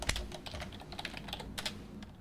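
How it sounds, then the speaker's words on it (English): Fast typing on a computer keyboard in a quiet Midtown office, crisp clustered key clicks in an irregular rhythm, close and clear with no talking. "It's not unusual to see a journalist typing at a computer."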